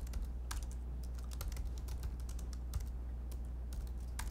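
Fingers type on a computer keyboard while coding, irregular quick key clicks and taps in uneven bursts, close and fairly quiet over a low steady hum.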